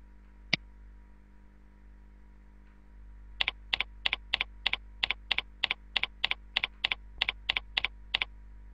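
Login name typed on a computer keyboard: after a single sharp click, a quick run of about fifteen evenly spaced keystrokes sounds close and crisp over a quiet hum.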